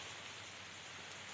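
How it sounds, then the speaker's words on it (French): Outdoor rainfall during a storm, a steady, dense hiss of drops at constant level, faint and uninterrupted with no voices. "il pleut"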